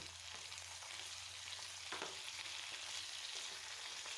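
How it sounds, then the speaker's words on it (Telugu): Onions and chopped tomatoes fry in a pan for a tomato and mint chutney, giving a steady, close sizzle with a soft stirring scrape near the middle. "ముందుగా కట్ చేసిన టమోటాలను కూడా ఇందులోకి వేసి వేపుకోవాలండి"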